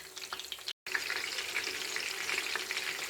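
Chapli kebabs fry in a pan of hot oil with a steady, close sizzle and crackle, broken by a brief moment of silence, with no talking.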